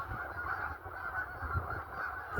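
Geese honking beside a lake on a bright day, a steady run of nasal honks at moderate distance over low rumbling background noise.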